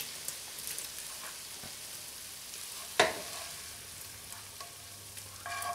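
Italian sausage frying in a pan, a quiet continuous sizzle broken by one sharp scrape or clatter midway, with no talking.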